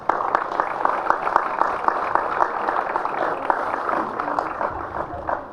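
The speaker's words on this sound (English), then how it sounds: "I'd just like a round of applause for Tim and his team." A crowd gives a sustained round of applause at the dedication of the Delaware State Forest Resource Management Center, with dense clapping holding steady throughout at moderate volume.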